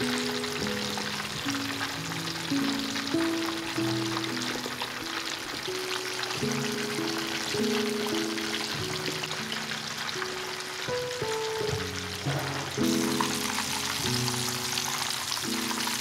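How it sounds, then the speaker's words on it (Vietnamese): Pork pieces fry in hot oil in a pan, giving a steady, crackling sizzle throughout that runs under prominent background music. "Trước hết là khi dầu nóng, mình chiên vàng phần thịt trước nè."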